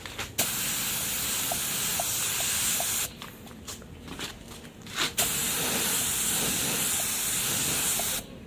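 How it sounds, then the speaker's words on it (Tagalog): An aerosol spray can hisses steadily while painting a Honda Click crankcase candy red, with long sustained bursts broken by a pause and brief spurts, plus faint small clicks in between. "Spray pa natin."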